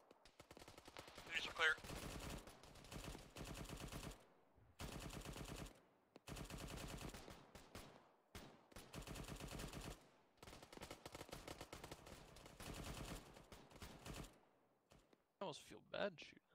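A .50 cal machine gun fires in the Arma combat game, in a run of long, loud bursts separated by short pauses. A few sharper shots come near the end.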